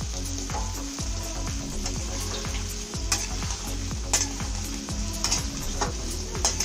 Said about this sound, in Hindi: अब इसमें डालते हैं कद्दू और इसको बढ़िया रोस्ट करेंगे।